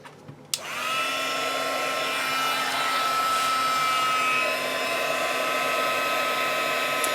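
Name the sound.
heat tool blowing hot air to melt embossing glaze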